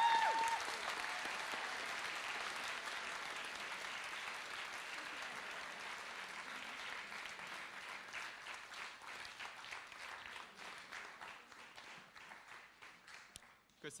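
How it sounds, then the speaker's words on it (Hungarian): A closing-day audience on a hall stage gives a long, dense round of applause, fairly faint and distant, thinning gradually over fourteen seconds into scattered claps. "egy hatalmas nagy tapsot kérek"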